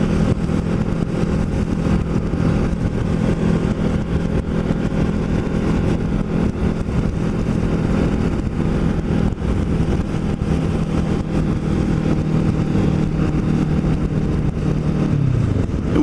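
A Kawasaki Ninja motorcycle engine droning steadily while riding toward Cape May, a continuous loud hum with wind rush, holding an even pitch and then dropping at the very end.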